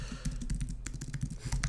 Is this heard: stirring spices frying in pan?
no